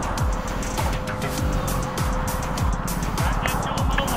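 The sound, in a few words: car passing on the right in traffic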